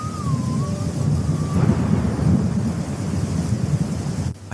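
A cartoon thunderstorm: loud, continuous rolling thunder with rain hissing underneath and a brief wavering whistle-like tone near the start, without any talking.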